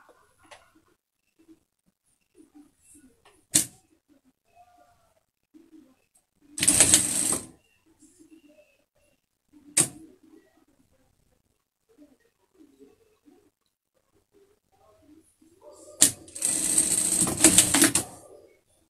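A sewing machine stitching a fabric face mask and its lining runs in short rattling bursts, then a longer run near the end, with scattered clicks and soft handling noises between, under quiet talk.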